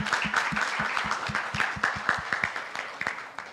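An audience at a club induction service claps steadily, a close mix of individual hand claps forming brisk, sustained applause without talking.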